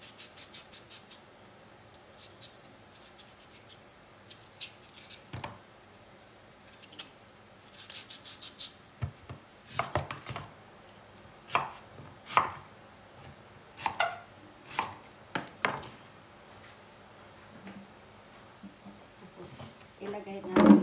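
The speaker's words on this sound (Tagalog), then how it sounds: "ikat ko yung mangga guys" Knife cutting through mango flesh for pickled mango, with scattered soft slicing and scraping strokes that grow denser and louder toward the end, over a quiet kitchen background.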